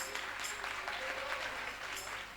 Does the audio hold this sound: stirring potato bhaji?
no